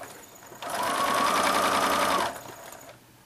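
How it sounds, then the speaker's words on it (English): A sewing machine runs in one steady, close burst of nearly two seconds while quilt pieces for a miniature rail fence quilt are stitched in sequence. "it's time to sew, and I can just pick them off of the design board and sew them in order"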